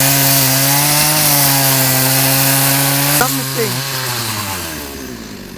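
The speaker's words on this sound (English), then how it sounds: "it'd be easier to slice the chainsaw into the roots underneath the ground level" Chainsaw slicing into the roots of a roughly hundred-year-old camellia tree below ground level, engine running loud and steady before pitch dropping as the blade bogs down in the wood, with a brief spoken remark over it.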